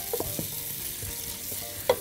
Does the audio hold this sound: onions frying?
yes